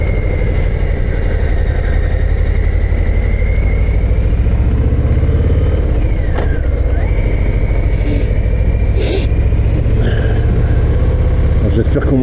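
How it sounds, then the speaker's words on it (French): Harley-Davidson Low Rider ST motorcycle engine braking in first gear down mountain hairpins, a loud steady low rumble throughout with shifting pitch and wind noise, while someone talks over it. "Avoir du frein moteur."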